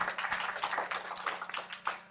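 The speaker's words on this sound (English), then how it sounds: "Let's give a round of applause to Jeremy, who has spoke from afar." A conference audience at a responsible-tech panel claps for a remotely connected speaker, a quiet, fairly dense patter of hands that fades slightly toward the end.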